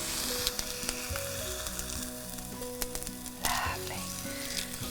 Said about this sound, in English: going to turn the steak